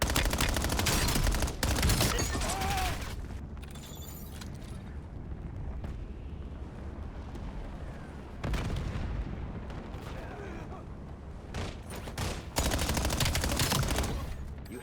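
Gunfire in the shooter video game Black Ops 7, sustained bursts of shots and explosive booms with loud surges and quieter stretches of rattling fire, mostly without talk.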